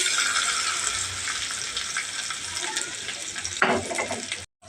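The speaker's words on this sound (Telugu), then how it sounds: "ఆయిల్ వేసుకున్నానండి తాలింపు కోసం ఇందులోకి కొద్దిగా జీలకర్ర ఆవాలు కొద్దిగా కరివేపాకు అండి" Cumin, mustard seeds and curry leaves fry in hot oil as a tempering for a drumstick-leaf sesame chutney, giving a dense, steady sizzle close by that cuts off abruptly near the end.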